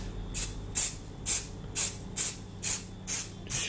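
An aerosol can of matte spray paint fires eight short, evenly spaced hissing bursts close by while weathering model railway track, each puff about a quarter second long with quiet gaps between.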